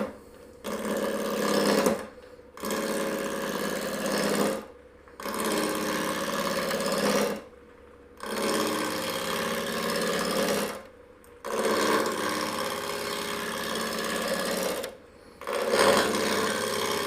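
A wood lathe spins a coffee scoop blank at about 800 RPM, a steady whirring hum in repeated bursts of roughly two to three seconds, each cut off by short quiet pauses as the tool engages and lifts.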